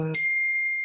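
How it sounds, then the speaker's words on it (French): A mobile phone ringtone sounds during a quiet French reading of the Tao Te Ching: a brief voice fragment, then one clear, sustained high chime that rings on steadily to the end. "Pardon, c'est mon téléphone."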